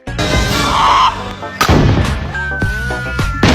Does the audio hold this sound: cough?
no